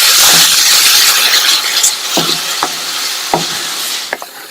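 Carrot masala being stirred and fried in a pan, a bright sizzle under repeated scraping and clacking strokes of a spoon against the pan, loud and close with no talking.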